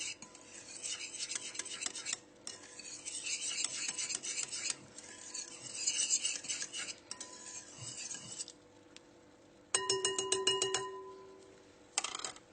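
Curdling milk stirred for cheese, a close rasping scrape of utensil against pot in repeated rhythmic strokes, broken by short pauses and a faint ringing metallic tone near the end, no talking.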